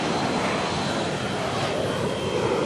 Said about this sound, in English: A jet has just landed, but this should not be one of the jets from Washington.